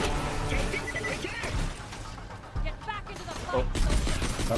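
Gunfire in the video game Borderlands The Pre-Sequel, with bursts of rapid shots, crashes and impacts during co-op combat, loud and chaotic, with players talking over it.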